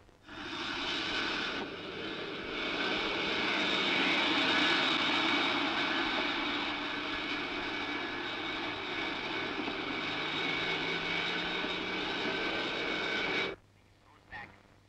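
Sustained loud roar of an Indian Airlines Boeing airliner's engines as the flight from Thiruvananthapuram to Bangalore departs, steady and continuous, cutting off abruptly near the end.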